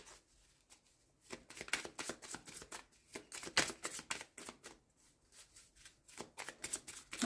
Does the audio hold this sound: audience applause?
no